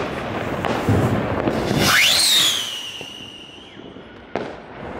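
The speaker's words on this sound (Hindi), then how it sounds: "तो भाई अब हम कर रहे हैं फायर रॉकेट को" A Diwali fire rocket launches with a loud rising whistle that peaks and trails off into a long fading tone. A sharp pop follows a couple of seconds later over a steady outdoor noise bed.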